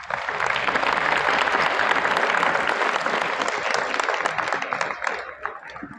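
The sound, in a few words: audience clapping at a school discussion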